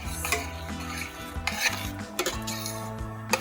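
A utensil stirs a pot of borlotti bean soup with chopped basil and tomato, scraping and clinking against the pot in irregular strokes, with a faint sizzle behind and some steady musical tones in the background.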